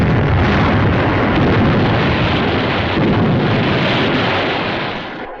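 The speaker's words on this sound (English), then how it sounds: "Shore batteries and the heavy guns of the French battleship Jean Bart and several cruisers, destroyers, and gunboats put out a devastating fire." Heavy naval guns of the French battleship Jean Bart and accompanying cruisers, destroyers and gunboats firing, a dense continuous roar of blasts, loud and sustained, fading slightly at the end.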